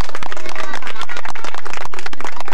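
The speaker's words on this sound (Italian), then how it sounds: "un applauso a Chiara e Roberta." Applause from a small group at an amateur radio club gathering in Salerno, quick dense clapping that is very loud and close, mixed with chatter and voices throughout.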